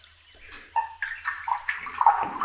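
Microfiber cloth dipped and dampened in water, with a few sloshing, gurgling splashes and trickles that grow busier toward the end, close and fairly loud, with no talk.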